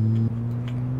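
An electric motor sound from a VW Transporter T4 mod in the BeamNG.drive driving game: a loud, steady, low tonal hum that drops slightly in pitch partway and then holds, with no talk.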